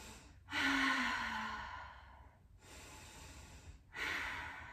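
A deep breath taken during an intermediate yoga flow: one long, audible inhale and exhale through the nose, close and fairly soft, followed after a pause by another breath.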